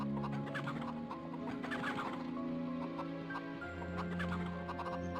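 In the video game MediEvil, chickens cluck in short, repeated bursts over a steady hum of game music and ambience, moderately loud and continuing throughout.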